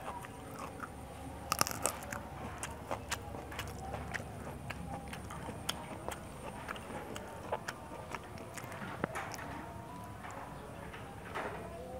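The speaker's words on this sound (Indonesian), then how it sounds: "Tahu susur, kita cokot dulu, kita gigit dulu." Someone bites into tahu susur, a fried stuffed tofu, with a young chili and chews it. Soft crunches and moist chewing sounds repeat close to the mic.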